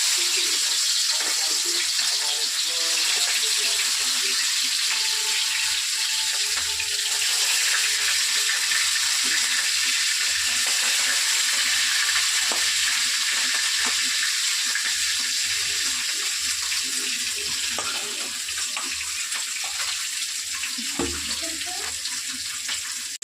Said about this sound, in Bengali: এদিকে মাছ ভাজা হচ্ছে আস্তে আস্তে